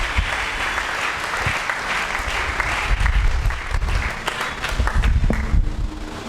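A church congregation applauds and cheers loudly during a Sunday sermon, a dense, sustained wash of clapping that fills the whole stretch at steady volume, with scattered voices mixed into the crowd noise.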